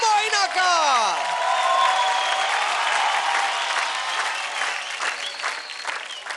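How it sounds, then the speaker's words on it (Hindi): A studio audience on a televised dance competition applauds loudly and cheers, steady clapping from a large crowd that follows a rising musical sweep with whooshing tones and fades slightly toward the end. "जानने के लिए जोरदार तालियां हो जाए"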